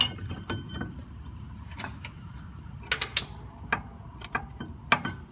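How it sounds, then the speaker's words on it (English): A ratchet tightens 15mm caliper bracket bolts on a Ford Ranger's front brakes, giving irregular bursts of close metallic clicking and clinking against a background of low workshop noise. "Now we're putting the caliper bracket back on with these 15mm bolts."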